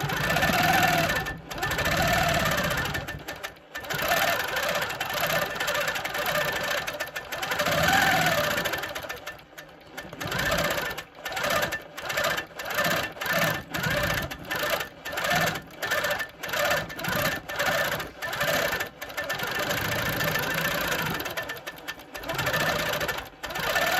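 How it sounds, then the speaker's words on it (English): A sewing machine free-motion quilts a Christmas pudding design, running in long close bursts of rapid mechanical stitching that start and stop repeatedly, with short pauses between runs and no talking. "Okay, so I'm here at the machine and we are just going to stitch out the Christmas pudding."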